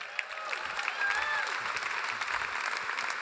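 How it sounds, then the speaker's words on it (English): An audience at an agriculture conference plenary session claps for a panel member, a dense, steady round of applause from a fairly distant crowd, with faint whistle-like tones above it. "Please give him a huge round of applause."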